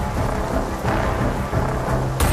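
Heavy rain pours steadily during a thunderstorm in Bombay, with deep thunder rumbling throughout and a sharp crack near the end, loud and close with no voices.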